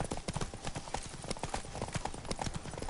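Horse hooves in The Witcher 3: Blood & Wine clip-clop at a brisk steady trot, close and continuous for the whole short stretch.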